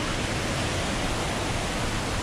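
Water rushing over Sundarijal waterfall, a steady dense roar of flowing water that stays constant and close throughout, with no speech.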